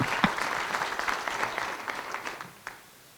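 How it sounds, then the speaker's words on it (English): An audience at a celebration breakfast claps in a fairly loud round of applause that gradually fades toward the end, with a few sharper individual claps standing out from the crowd. "Give yourself a round of applause."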